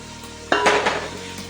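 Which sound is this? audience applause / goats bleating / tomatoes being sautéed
tomatoes being sautéed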